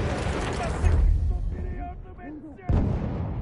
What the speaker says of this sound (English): Coordinates have been sent to our artillery.